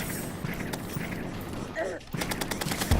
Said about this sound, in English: You need to stop shooting me with lasers.